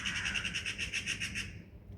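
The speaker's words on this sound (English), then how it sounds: "Crows and the birds." Birds chirp in a quick repeating series from a hotel balcony in Pescara on the Abruzzo coast of Italy, bright and fairly close for about a second and a half before fading into quiet outdoor air.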